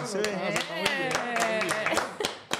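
A few sharp, scattered hand claps ring out at a comedy show, with people talking loudly over them throughout.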